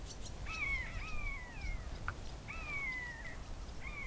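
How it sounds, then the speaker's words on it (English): Two birds of prey call back and forth in trees behind a nature reserve path, a few sharp descending cries spaced apart over faint background hiss. "There's 2 birds of prey over there, talking to each other or fighting or something"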